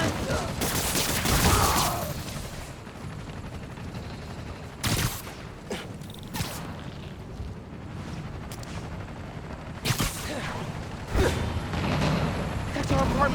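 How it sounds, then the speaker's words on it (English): Gunfire rings out in the Spider-Man: Miles Morales video game during a snowy city blizzard. Several sharp, loud bursts of shots punctuate a rumbling background, and characters' voices are heard around them. "towards the gunfire"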